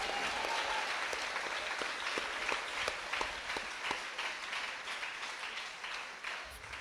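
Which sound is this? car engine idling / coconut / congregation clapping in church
congregation clapping in church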